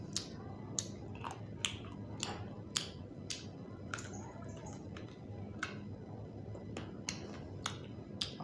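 Raw corn being chewed up close, a steady series of crisp, sharp crunching bites repeating every second or so over a low background hum, with no talking.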